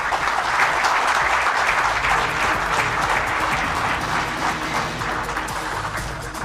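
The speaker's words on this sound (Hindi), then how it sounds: "जोरदार तालियों से एक बार फिर माननीय मुख्यमंत्री के आशीर्वचनों के लिए" A crowd at a Jharkhand administrative service association event on the old pension scheme gives the Chief Minister loud, sustained applause, with dense clapping filling the room evenly for over six seconds.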